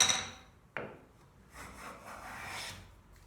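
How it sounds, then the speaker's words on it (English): A wooden hand plane gets a single sharp, close tap from the brass face of a mallet, followed by soft scraping and rubbing sounds of wood handling at low volume. "I'll just take my mallet, the brass side of my mallet, give it a little tap."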